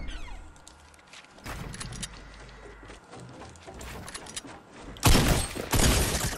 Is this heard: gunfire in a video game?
yes